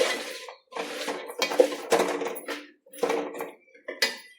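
A spatula working through food in a pan while making chakkara peratti, a series of close scraping and clattering strokes in uneven bursts with short pauses between them.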